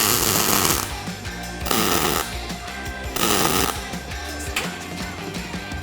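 Stitch welding joins a 3/16 thick steel plate to 16 gauge sheet metal, a loud, close crackling buzz in several short bursts separated by brief drops.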